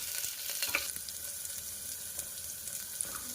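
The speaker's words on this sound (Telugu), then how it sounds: "ఇప్పుడు ఆనియన్ వేసుకోవాలి. ఒకసారి కలుపుకున్న తర్వాత కొంచెం ఫ్రై అవ్వాలి." Onions sizzle and crackle in hot oil in a pan while veg pulao is cooked, with a steady close frying hiss and occasional stirring clicks.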